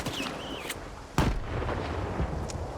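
Video game combat explosions, one heavy boom midway with a rumbling tail and a smaller pop later, over a steady battle din and a faint whistling tone early on.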